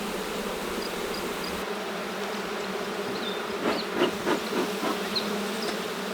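Honeybees buzzing at an open hive after a new queen has hatched, a steady dense hum throughout with a few louder, closer passes of individual bees near the end.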